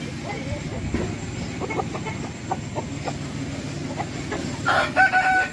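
Native-breed roosters in a large farm flock in an orchard crow, one clear crow rising near the end over a busy backdrop of distant clucking and rustling.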